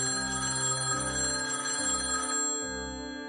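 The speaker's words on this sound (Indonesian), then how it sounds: "Itu, telepon kamu bunyi." A telephone ringtone rings in an Indonesian school drama animation, sounding three repeated bursts of steady tones, loud and alone with no talk over it.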